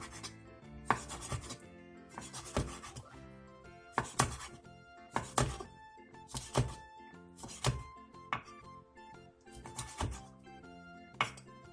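A knife chops a squid body into rings about 0.5 to 1 cm thick on a cutting board, with roughly ten sharp, evenly spaced thuds heard close up against a faint background hum.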